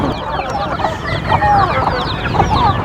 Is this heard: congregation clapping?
no